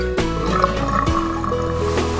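Water gushes into a sink in short bursts, close and fairly loud, with splashing and gurgling as it fills and drains.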